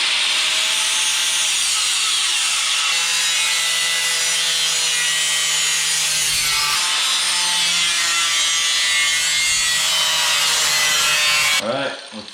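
A truck's front valance panel being cut across with a power tool, giving a steady, loud, continuous grinding-sawing whine that runs nearly unbroken for about twelve seconds before cutting off abruptly.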